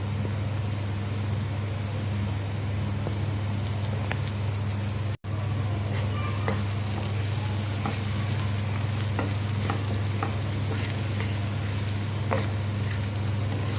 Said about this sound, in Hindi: अच्छी तरह स्टर करेंगे स्पाइसेस को लहसुन और प्याज के साथ